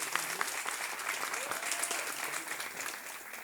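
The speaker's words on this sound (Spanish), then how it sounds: "Un fuerte aplauso a Jason" An audience claps to welcome a moderator at a forum on territorial leaders and community projection centres, steady moderately distant applause filling the room, with faint murmured voices beneath.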